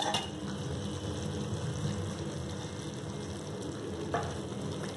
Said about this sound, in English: I'm going to add fried bhindis into it.